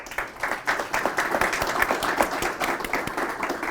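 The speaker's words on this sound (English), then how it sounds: "Let's welcome him with a round of applause" A room applauds the arrival of Hamilton County Mayor Weston Wamp at a Chattanooga chamber event, a dense, fairly close round of hand clapping that holds steady throughout.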